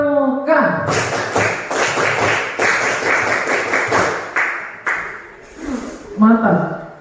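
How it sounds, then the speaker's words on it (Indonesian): A class of children in a school ice-breaking activity claps out the rhythmic Scout clap pattern together, bursts of sharp group claps in a counted sequence, with a teacher's voice leading at the start and end. "Tepuk 1, tepuk 2, tepuk 3, tepuk pramuka."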